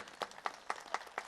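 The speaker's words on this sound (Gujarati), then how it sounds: "એને જોરદાર તાળીઓના ગગડાટથી વધાવો" Five or six scattered, faint hand claps at a school opening event in Gujarat, spaced evenly and sounding thin and distant, with no talking.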